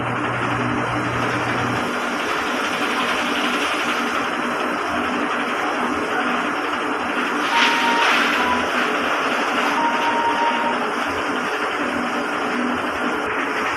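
A DTF printer runs a print head cleaning cycle, giving a steady, loud mechanical whir and hum that continues throughout with a brief swell in the middle.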